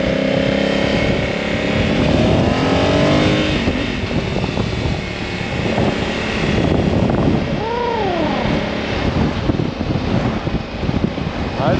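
A 2022 Honda Africa Twin motorcycle engine pulls hard under acceleration, its rising harmonic whine loud and close over steady wind rush, with pitch sweeps as the rider shifts through gears.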